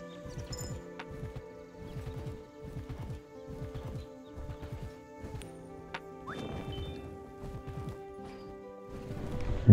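A horse in the video game Kingdom Two Crowns: Norse Lands trots with steady clip-clopping hooves over a sustained musical drone, with a brief whinny-like sound, fairly quiet and without speech.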